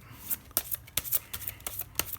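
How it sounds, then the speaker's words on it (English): Oracle card deck being shuffled by hand, not riffled, giving a run of soft papery slaps and rustles in uneven bursts, close and fairly loud, with no talking. "The cards are very straightforward, very easy to read with, very easy to shuffle."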